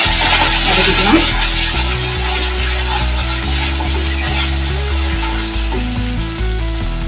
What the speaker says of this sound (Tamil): இப்போ நம்ம இஞ்சி பூண்டு பேஸ்ட் இதுல சேர்த்துக்கலாம். அதையும் நல்லா கொஞ்சம் வதக்கிக்கலாம்.